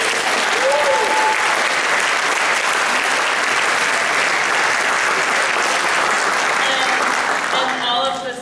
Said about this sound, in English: I think we should give them applause.